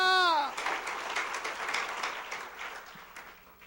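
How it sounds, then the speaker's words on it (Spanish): A church congregation applauds for a few seconds as a dense, crackling wash of many hands, preceded by a brief sung or shouted voice at the start and fading gradually toward the end. "Dale fuerte ese aplauso a Cristo."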